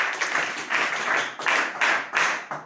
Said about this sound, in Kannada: ನಿಮಗೆ ಜೋರಾಗಿ ಚಪ್ಪಾಳೆ